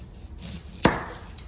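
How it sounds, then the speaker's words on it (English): A knife slicing the tip off an onion on a cutting board gives a single sharp, close chop in the middle, with quiet room tone around it. "Cut off the tip."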